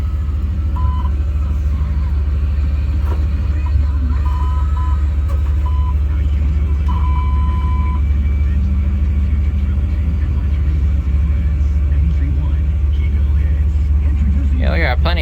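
A 1990 Chevy K1500 pickup engine idles with a steady low rumble close by, along with faint repeating beeps from the dash, while a person talks over it.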